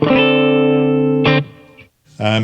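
An overdriven electric guitar sustains a gritty chord, then cuts off and strikes another distorted chord after a brief pause.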